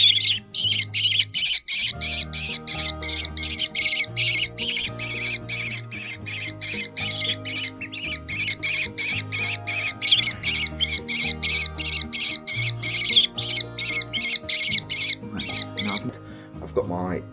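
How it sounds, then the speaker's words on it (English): A hungry young kestrel squawks over and over in rapid, piercing calls, close and loud, running almost continuously with brief pauses while a person talks quietly underneath. "I have got to feed this very hungry little Kestrel."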